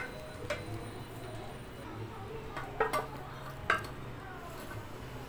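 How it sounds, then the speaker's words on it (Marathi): Cooked rice and dal being stirred together in a pot for dal khichdi, with a few soft spoon scrapes and clicks against the metal over a low, steady background hum. "भात आणि शिजवून घेतलेली डाळ आपण एकत्र करून घेऊया। ते चांगलं ढवळून घ्यायचं आहे।"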